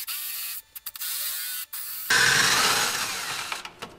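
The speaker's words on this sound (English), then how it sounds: "So let's go ahead and cut this hole." A hole is cut with a power tool on a non-turbo Subaru during a turbo conversion, a steady loud grinding whir starting abruptly midway and running to the end, after quieter intermittent noise.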